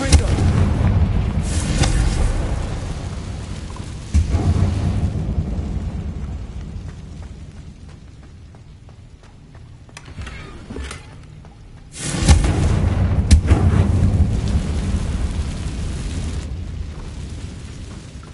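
Confringo spell blasts explode in the video game Hogwarts Legacy: loud booming bursts with rumbling tails, a cluster at the start, another around four seconds and a heavy blast near twelve seconds, with quieter stretches between.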